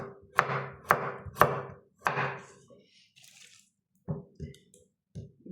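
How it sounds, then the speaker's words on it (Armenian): A knife chops radish on a board: a handful of sharp, close thuds in an uneven rhythm, with a short quiet gap before a few lighter cuts. "Հարգելիներս հիմա կտրատում եմ բողկը,"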